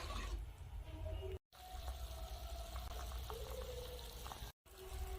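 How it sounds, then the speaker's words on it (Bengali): Fish curry gravy with fried potatoes bubbles in a pot, a quiet, steady simmer with small pops and liquid burbles, briefly cut by two short gaps of silence. "তো বন্ধুরা ঝোলটা এখন খুব ভালো করে ফুটিয়ে নেব।"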